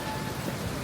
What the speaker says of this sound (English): a little rainy today